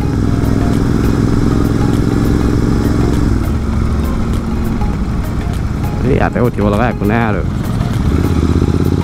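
Royal Enfield motorcycle engine thumping loudly and steadily as the bike rides over a speed breaker, with the rider talking over the engine partway through.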